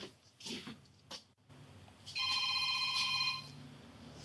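A phone rings inside a house during a sheriff's deputies' property search, a single electronic ringtone burst of about a second and a half following brief muffled sounds, fairly faint and distant.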